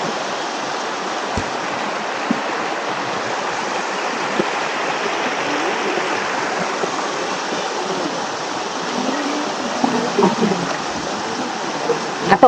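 Water rushes continuously along a forest stream on the Erumeli–Karimala–Pampa route, a steady, full broadband flow heard close by and unbroken, with a few faint knocks near the end.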